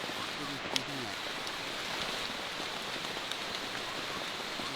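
Steady rain falling in a Florida rainforest, a dense even hiss of drops on leaves and surfaces, close and continuous, with a brief murmur of a voice near the start.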